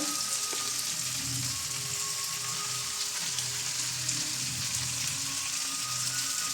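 Pomfret fish frying in a pan, a steady broadband sizzle with crackle that runs unbroken and fairly close throughout, with low background hum and no talking.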